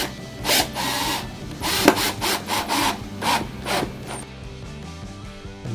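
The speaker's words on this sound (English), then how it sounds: "And with the screws that came with the kit, go ahead and secure the neck." Kit screws are driven into wood to fasten the neck of a DIY Jazz Bass guitar build, making a series of short, close rasping creaks in uneven bursts with no talking.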